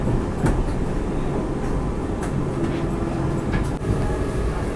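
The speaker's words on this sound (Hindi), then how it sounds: "अभी एक और ओवरटेक करने वाली है अपनी वंदे भारत स्लीपर ट्रेन" A Vande Bharat sleeper train overtaking the Lachit Express on a loop line, with a loud, continuous rumble and rattle of rolling wheels and periodic sharp clicks over rail joints, heard close and alone.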